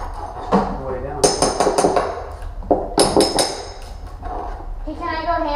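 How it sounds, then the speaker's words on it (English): Sharp metallic hammer blows drive nails into a floor during a luxury vinyl flooring remodel, several loud ringing strikes in uneven bursts, close by, with a voice and other talk in between. "I'm gonna go hammer the rest of the nails"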